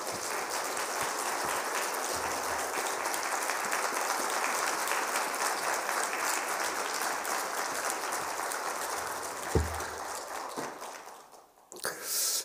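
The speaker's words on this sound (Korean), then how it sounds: "우리 나오실 때 뜨거운 박수로 우리 환영하겠습니다" A church congregation at a Friday worship service applauds to welcome a pastor, steady dense clapping that carries on for several seconds before tapering off near the end.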